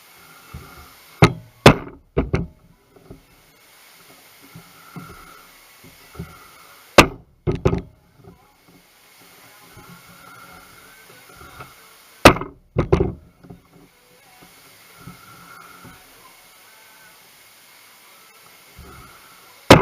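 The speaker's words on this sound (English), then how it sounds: "So I just punched my holes" Holes are punched for a possibles bag, with sharp, loud percussive strikes arriving in small clusters a few seconds apart against quiet rustling in between.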